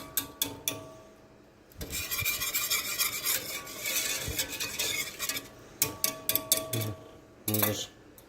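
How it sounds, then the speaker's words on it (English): Sweet cucumber salad being stirred in a pot of vinegary brine, spoon scraping and rubbing in a steady stretch with clinks and taps before and after, close and moderately loud. "I'll stir it a little bit here and there until it boils."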